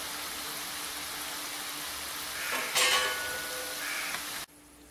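Moong dal murukku frying in hot oil, a steady broadband bubbling hiss with a brief louder surge of sizzling before it cuts off abruptly.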